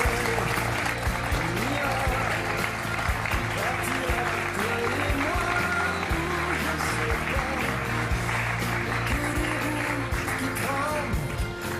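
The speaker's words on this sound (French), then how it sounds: "Merci d'applaudir Olivier." A television studio audience applauds a guest named Olivier with sustained, dense clapping that stays loud and even throughout, with music playing underneath.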